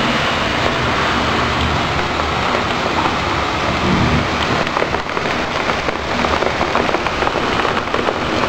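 Heavy rain pours steadily during a thunderstorm in Bayonne, New Jersey, a loud, dense hiss with low thunder rumbling beneath it throughout.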